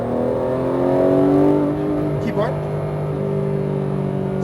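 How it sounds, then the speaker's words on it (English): A Porsche GT3 on the Exotics Racing track accelerates at full throttle, its engine a loud, steady, close-up roar with strong tonal harmonics; a voice briefly speaks over it. "Throttle to the floor."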